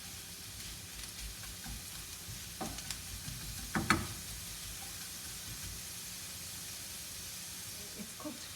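Carrots cooking down in a pan for a shepherd's pie, a faint steady sizzle with a few soft stirring knocks and scrapes, close and quiet, with no talking.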